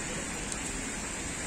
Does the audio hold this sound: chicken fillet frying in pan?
no